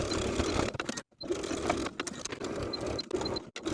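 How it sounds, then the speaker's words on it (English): A sewing machine topstitches a tie onto a garment near the center back edges, running in a steady close mechanical whir with a few brief pauses between stitching runs. "And I'll top stitch the tie in place, edge stitching close to those center back edges, doing this to secure each tie."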